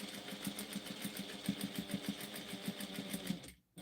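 Domestic sewing machine fitted with a narrow foot, stitching fabric for coasters in a fast, even, mechanical rhythm that runs steadily nearby, then stops abruptly just before the end.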